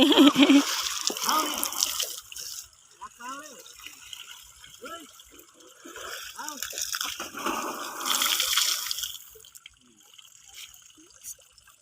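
Water splashes in uneven bursts during outdoor bathing at sunset, with people talking over and between the splashes.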